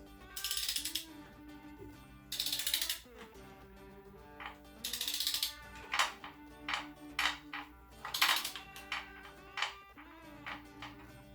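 A ratchet tightens a part on a 2007 Harley-Davidson FLHTCU transmission to 100 foot-pounds, giving a few quiet bursts of clicking with short pauses between them and faint metallic rattles in a quiet workshop.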